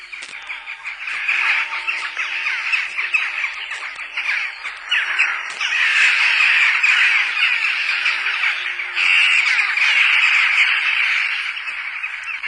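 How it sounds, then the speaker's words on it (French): Jackdaws call from around a bell tower where they nest, a continuous flurry of sharp, chattering caws from several birds, fairly loud with no other sounds beneath. "Ce sont des choucas. Ils nichent dans le clocher."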